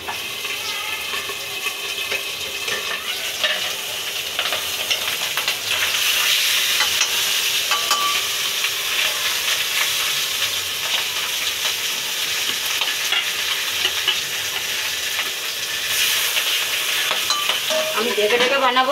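Pabda fish fry in hot oil with a steady, dense sizzle and scattered pops and spatters, loud and continuous with no talking.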